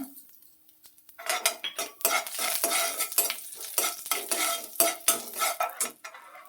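Ginger fries in a pan of hot oil for a banana flower dish, with a soft sizzle under repeated scraping and stirring of a spoon against the pan, starting quietly and growing busier.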